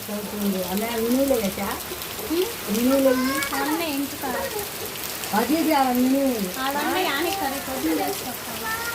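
Heavy rain pours steadily outdoors during a downpour, with a constant hiss underneath while people talk throughout.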